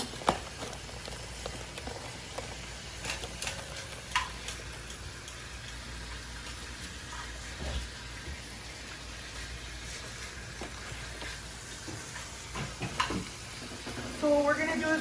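Bacon cooks in a pan with a soft, continuous crackle and sizzle, fairly quiet, with a few faint knocks and shuffling sounds around it.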